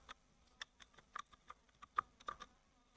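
Quiet, close keystrokes on a computer keyboard typing a pip install command, an uneven run of light taps and clacks with no voice.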